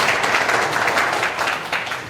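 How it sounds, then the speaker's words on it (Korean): Audience applause for a panel of four judges at a quality competition event, brisk steady clapping from a hall crowd, fairly close, fading slightly at the end. "다시 한번 총 4분의 심사위원 여러분께 큰 박수 부탁드립니다."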